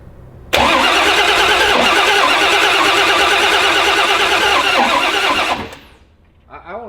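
A loud car engine roars and revs hard for several seconds with raspy, crackling bursts, then cuts off abruptly, leaving a quieter tail with faint sound.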